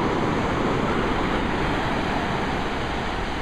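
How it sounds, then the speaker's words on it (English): Ocean waves break and wash up on a beach with cold water, a steady, loud broadband roar of surf running unbroken throughout with no voices. "There's a wave."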